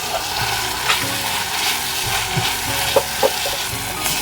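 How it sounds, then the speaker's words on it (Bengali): Spice masala being fried and stirred in oil while making a besan dish, giving a loud continuous sizzle with scraping stirs against the pan and a couple of sharper knocks. "মশলাটা খুব সুন্দর করে কষে নেব"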